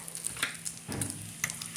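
Bacon frying in a pan for a bacon, lettuce, tomato and shrimp sandwich, a soft steady sizzle with faint crackles and a brief stir or scrape near the middle, heard close with no talking.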